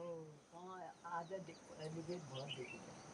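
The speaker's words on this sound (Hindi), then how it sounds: "तो इतनी गौरैया आ गई।" House sparrows gathering to feed in a Uttarakhand mountain village, a faint flurry of overlapping chirps and tweets mixed with quiet background sounds.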